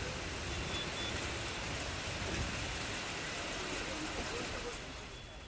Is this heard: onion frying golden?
no